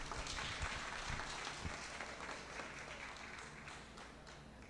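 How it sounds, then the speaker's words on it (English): Scattered applause from an audience at a postage stamp launch ceremony, fairly quiet and distant in the room, with a few sharper claps standing out from the soft background clatter. "Let's give them a round of applause."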